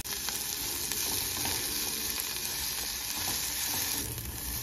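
Onions with a pinch of salt and a generous pinch of sugar sizzle steadily as they caramelize in a frying pan, a continuous, even hiss that is close and fairly loud, with no voices.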